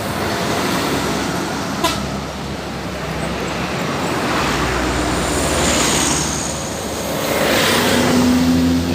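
An intercity bus overtakes a truck on a Sumatran highway, with steady loud road and engine roar, a short horn toot early on and a rising whine near the end as the vehicles pass.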